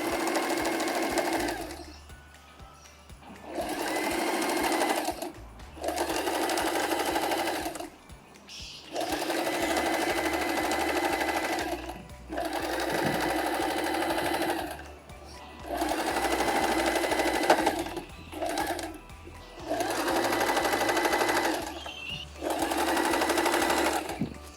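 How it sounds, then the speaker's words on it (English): A sewing machine stitching a fabric bag runs in steady bursts of whirring, needle-driven clatter, stopping and restarting several times with brief pauses between runs, close and clear with no talking over it. "Let the needle stay in, lift up the presser foot and turn the whole bag around like so and start sewing"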